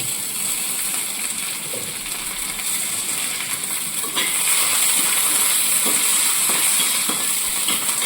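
Curry leaves sputter in hot oil with mustard seeds and chillies, a close, steady hiss and crackle that grows a little louder and busier partway through, with sharp pops and no voices.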